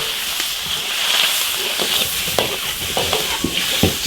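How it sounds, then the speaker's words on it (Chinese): Soft-shell turtle pieces hit a hot iron wok with Sichuan peppercorns, ginger, garlic and pickled chilies, giving a steady loud sizzle with repeated spatula stirs and scrapes throughout. "直接下鱼爆炒1分钟"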